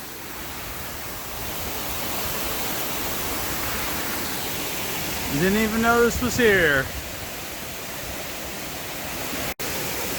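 Loud waterfall roaring as a steady, close broadband rush of falling water throughout, with a person talking briefly over it midway.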